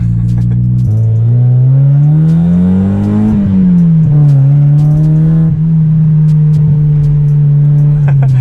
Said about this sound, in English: That was like full throttle and I couldn't even brake traction.